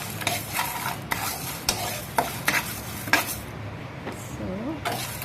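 Urad dal being dry-roasted and stirred in a pan, with repeated scraping and clinking strokes of a spoon against the metal, close and fairly loud, plus a faint low sizzle under them.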